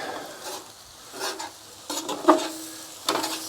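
Cabbage with sausage and shrimp frying on a Blackstone griddle, a soft continuous sizzle broken by several scraping spatula stirs and turns, close and fairly quiet.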